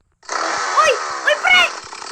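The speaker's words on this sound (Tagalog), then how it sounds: "Nag-chainsaw ako" A chainsaw runs loud and steady as a continuous buzzing drone, its pitch swelling a few times. A voice is heard over it.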